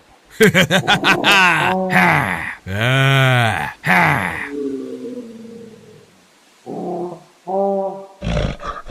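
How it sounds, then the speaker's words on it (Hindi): A cartoon black monkey roars loudly as a story effect, with long, harsh, drawn-out bellows near the start, followed by shorter tonal calls and a final loud burst. "तभी वह काला बंदर जोर जोर से चिंघाड़ने लगता है।"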